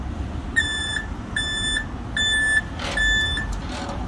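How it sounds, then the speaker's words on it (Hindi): A school bus backs up after a collision at a Sunoco station, its reversing alarm beeping four times in a steady rhythm over idling engine rumble. "अभी रिवर्स कर रही है, रिवर्स"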